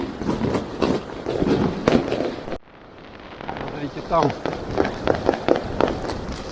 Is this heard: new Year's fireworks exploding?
yes